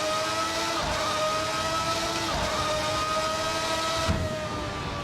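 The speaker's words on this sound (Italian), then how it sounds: "un motore così è una cosa allucinante" A Ferrari engine accelerates hard on the Fiorano test track, a loud, continuous high-revving roar with shifting pitch and brief breaks that suggest gear changes.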